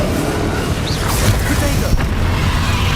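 Bombarda explosion spell cast in the video game Hogwarts Legacy: a dense, rumbling blast that fills the whole stretch with steady, roaring noise, plus a sharper crack near the end.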